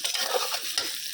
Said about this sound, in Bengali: এখানে কালি জিরা ফোড়ন দিচ্ছি